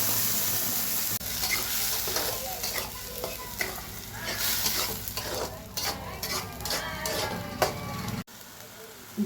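Puréed chicken paste hits a hot pan and fries with a steady close sizzle, stirred repeatedly with scraping strokes, then cuts off abruptly near the end.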